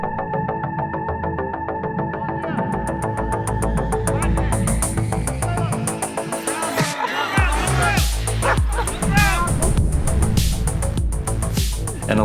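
A police K9 dog barks and yips excitedly amid a dense, noisy mix of engine hum and clatter, its sharp calls repeating rapidly through the second half.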